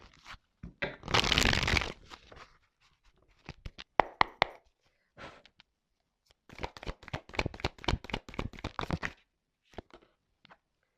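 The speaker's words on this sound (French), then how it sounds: "on va prendre encore quelques petites cartes là" Tarot cards handled and drawn from a deck, a burst of riffle-shuffling followed by scattered taps, slides and snaps of cards being laid out, close and moderately loud with pauses between.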